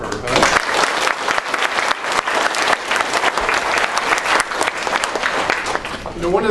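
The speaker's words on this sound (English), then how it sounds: "A round of applause for her, huh?" Sustained audience applause at a school DARE ceremony, steady clapping from a crowd filling the room, loud and continuous for several seconds.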